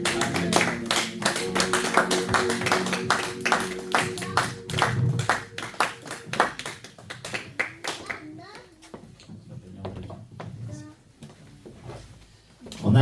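A church congregation at a French-language worship service applauds with dense, rhythmic clapping that gradually thins into scattered claps, with voices mixed in.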